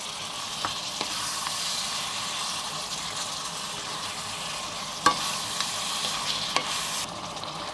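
Butter garlic prawns with shrimp paste sizzle steadily in a pan while being stirred, a soft continuous frying hiss broken by a few light clicks of a utensil against the pan, with no voices.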